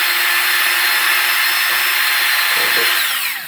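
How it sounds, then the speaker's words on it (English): A power drill bores pilot holes into wood with a high, steady whir and grinding bite, slowing and winding down at the end. "I'm going to pre-drill some holes in these."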